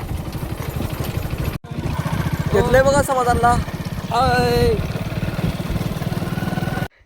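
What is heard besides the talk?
Hero Splendor motorcycle riding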